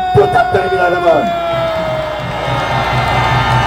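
A crowd at a Korean political rally cheers and shouts loudly, then settles into sustained applause and murmuring.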